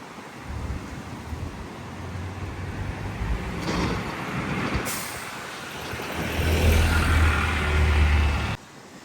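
A Mercedes-Benz bus on London route 117 rumbles past amid street noise, with a sharp hiss of air brakes releasing midway and a heavy low engine drone building toward the end before cutting off.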